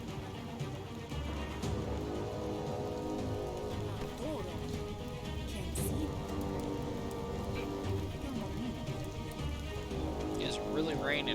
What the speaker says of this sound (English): really raining in that